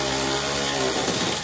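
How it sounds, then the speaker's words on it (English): An electric ratchet tightens the battery terminal posts on a Husqvarna Z254 riding mower, giving a steady close-up motorized whir that holds continuously without a break, heard alone with no talking. "get my electric ratchet to see if we can just tighten these up."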